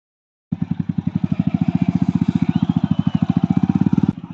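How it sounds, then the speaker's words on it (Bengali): A heavily modified Yamaha R15 V3 motorcycle engine starts abruptly after a brief silence, then gives a loud, close, rapid pulsing throb that holds steady for about three and a half seconds before cutting off. "এরপরে বাইকটার একটা ফ্লাই বাই তোমাদেরকে শোনাচ্ছি"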